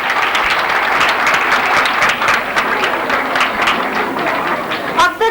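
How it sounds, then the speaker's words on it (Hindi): Audience applauding schoolchildren at a school event, a loud, dense burst of clapping from a crowd that carries on steadily, with a few sharper individual claps near the end. "बच्चों को आपकी भरपूर तालियों की जरूरत है।"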